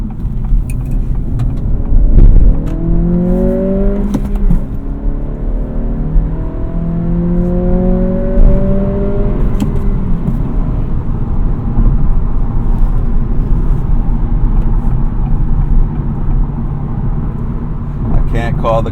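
Acura Integra engine pulling up through the revs after a downshift, a loud steady drone with rising whine tones, a sharp clunk near the start and someone talking over it.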